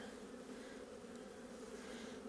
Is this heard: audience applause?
no